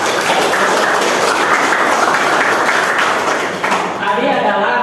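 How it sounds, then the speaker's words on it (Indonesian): A group claps after a teacher-training presentation for a university professional teacher programme. Dense, even clapping fills the first four seconds, then fades as a voice begins speaking. "Tepuk tangan."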